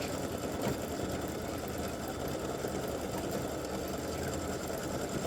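An embroidery machine stitches an appliqué design of elf legs and a bow, a steady mechanical whirring that runs unbroken throughout at moderate level with no voices.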